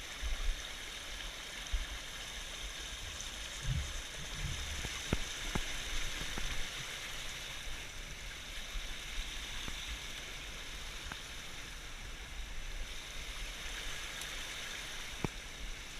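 A small woodland stream flows steadily and softly throughout, a continuous broadband wash with a few faint clicks and knocks, no voices.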